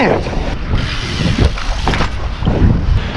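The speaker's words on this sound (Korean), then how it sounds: "God ah, damn wind." Strong outdoor wind buffets a microphone during a wheelie bike ride, a loud continuous rumbling roar that swells and dips throughout.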